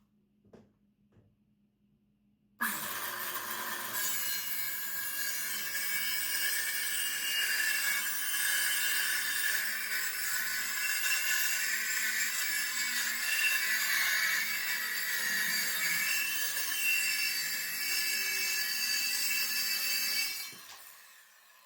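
A saw cuts steadily through a pine or cherry board for a shelf tray, a loud continuous rasping drone that starts abruptly after a quiet pause and runs about eighteen seconds before stopping.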